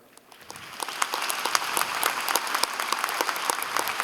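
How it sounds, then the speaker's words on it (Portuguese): A church congregation applauds to celebrate the church's 110th anniversary; the clapping swells from scattered claps into steady, dense applause that continues to the end. "Dê um aplauso."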